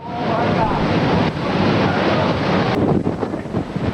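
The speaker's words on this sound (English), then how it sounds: "what you're looking at there is a violent, rapidly rotating tornado" Violent, rapidly rotating tornado winds in Oklahoma in 1999 roar as a loud, continuous broadband rush with gusty buffeting against the microphone, sustained throughout with a brief dip partway.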